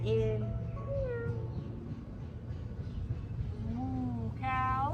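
Several high children's voices imitate a cat during kids' yoga, drawing out a few meows in turn over a steady low hum.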